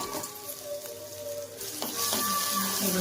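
Ground spice paste is stirred into potatoes frying in a pan, giving a steady close sizzle with scraping stir strokes that grow louder toward the end, no voices.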